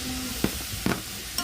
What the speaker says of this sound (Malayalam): അപ്പോൾ ഇനി ഇതിലേക്ക് തക്കാളിയും പച്ചമുളകും കൂടെ ഇട്ട് കൊടുക്കാം.